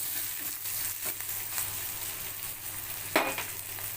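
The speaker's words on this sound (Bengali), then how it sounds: "পেঁয়াজটা এবারে ভাজা ভাজা হয়ে গেছে এবার আমি এর মধ্যে দিয়ে দেব চাপের মশলাটা" Onions fry with chaap spice mix in a pan, giving a soft, steady sizzle with faint stirring scrapes and one sharper clack near the end.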